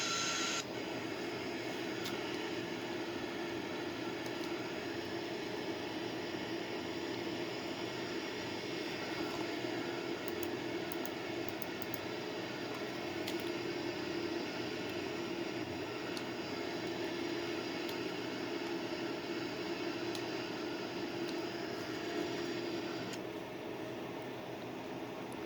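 Steady, broadband cabin drone of a Boeing 787 cruising in flight, a constant engine and airflow hum that holds unchanged throughout with no talking.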